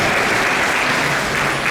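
A crowd at a Hare Krishna temple lecture applauds steadily, dense clapping filling the whole stretch without a break.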